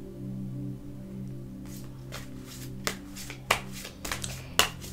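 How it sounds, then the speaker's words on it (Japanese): Oracle cards being shuffled and drawn, a series of soft papery slaps and riffles that grow sharper toward the end, heard over a steady low background hum with no talking. "この今月のカードをそれではシャッフルして引いてみたいと思います"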